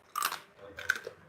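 Two crisp bites into homemade potato chips, sharp crunchy bursts close to the mic with a short pause between them and no speech.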